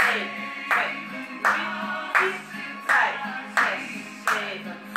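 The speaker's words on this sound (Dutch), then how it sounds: "Klappen." Participants in a seated dance exercise class clap their hands in time with music. Sharp, evenly spaced single claps land roughly every beat over a steady background tune.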